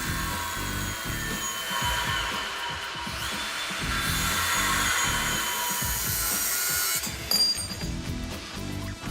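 A metal frame bar on a project car is trimmed with a cutting tool, giving a rhythmic, grinding scrape in repeated strokes with high metallic ringing, close and steady, ending with a few clinks.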